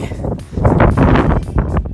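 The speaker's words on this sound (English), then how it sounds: "My goodness, it's windy today." Strong wind buffets the microphone in loud, rumbling gusts.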